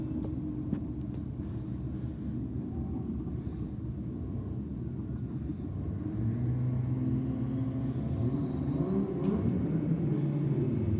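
Roll racing cars, a Holden VL against a Toyota Supra, accelerate hard down a strip, heard as a distant, rumbling engine roar that swells and rises in pitch toward the end.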